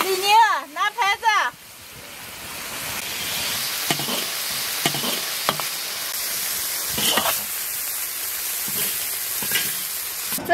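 Spicy minced pork with small potatoes simmering and sizzling in a pan, with red millet chili added, a steady soft crackle running throughout, opened by a short burst of sung or spoken voice and with occasional clinks of utensils.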